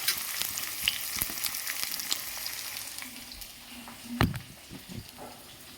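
Vegetables with eggplant and parshe fish sizzling and crackling in hot oil in a pan, a steady close frying hiss with occasional pops and a few stirring clinks, no voices.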